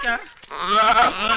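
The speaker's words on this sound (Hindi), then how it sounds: "बकरी।" A goat bleats loudly in a Hindi film scene, a short wavering cry that breaks briefly and then swells into a longer quavering bleat, close by and alone.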